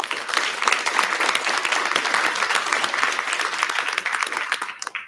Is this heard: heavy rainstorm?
no